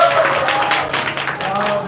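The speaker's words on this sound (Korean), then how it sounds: "박수 한번 주세요." An audience at a church high school youth service claps for a birthday, dense rattling applause that stays steady throughout with some voices mixed in.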